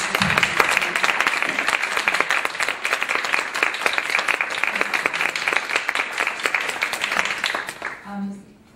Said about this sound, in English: A big round of applause for the panel.